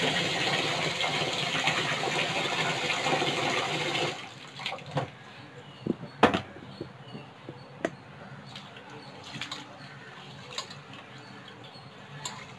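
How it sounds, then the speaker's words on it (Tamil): Ration rice and urad dal being washed in water, a loud steady gush of running water for a few seconds, then sloshing, swirling and clinks close by. "இது ரெண்டுத்தையுமே நல்லா வாஷ் பண்ண போகிறோம்."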